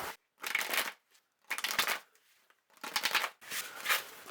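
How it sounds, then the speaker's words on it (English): Tarot cards being shuffled in four separate bursts of riffling and sliding, each about half a second long with brief pauses between, close and fairly loud, with no voices. "Let's pick some tarot cards."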